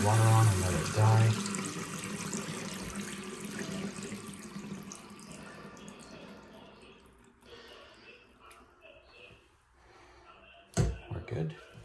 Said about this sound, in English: we're gonna turn the water on and let it die.